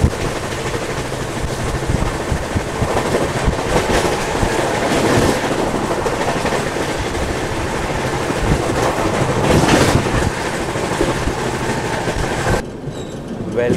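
Kacheguda-Madurai express train running at speed on the track near Anantapur, a loud continuous rumble and rattle of wheels and carriages with rhythmic clatter throughout, wind rushing, and a brief muffled dip near the end.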